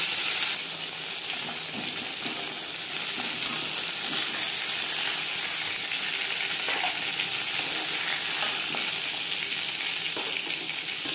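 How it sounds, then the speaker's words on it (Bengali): Katla fish frying in hot oil with one side done before flipping, giving a steady, dense sizzle throughout with occasional soft clinks and stirring. "একটা সাইড ভাজা হয়ে গেলে অপর সাইডটা উল্টে দেবো।"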